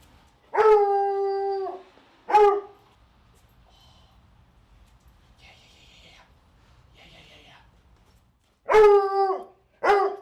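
A dog hunting a rat in a woodworking shop lets out loud, close, howling barks in two pairs of bursts, with a long quiet gap of faint rustling between them.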